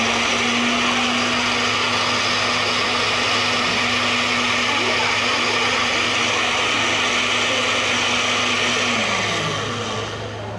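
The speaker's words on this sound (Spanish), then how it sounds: "vamos a dejar que procese bien esta parte" A blender runs steadily, whirring loud and continuous as it purees salsa ingredients, with a steady low hum underneath; the motor pitch drops slightly near the end as it winds down.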